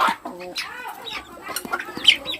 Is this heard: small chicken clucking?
yes